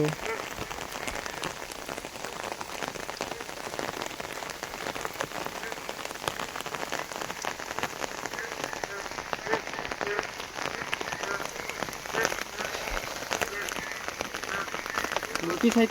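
Steady, dense rain patters on a surface for the whole stretch, constant and close, with no voices.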